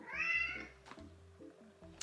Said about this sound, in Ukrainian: Вибачте, мій кіт щось грається.